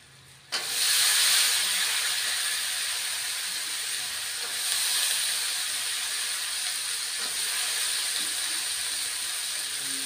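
Spring onion stalks fry in a pan with spices, potato and bori, a sudden loud hiss as they hit the oil settling into steady close sizzling with faint scraping ticks.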